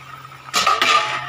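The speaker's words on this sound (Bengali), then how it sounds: "এবার আমি ঢাকাটা খুলে দেব।" A cooking pot lid lifted off during preparation of a light Bengali fish curry with vegetables, giving a short metallic scrape and clatter of close pot-and-lid contact, alone and fairly loud, then a lingering rattle.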